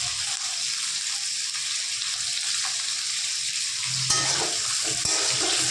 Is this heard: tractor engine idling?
no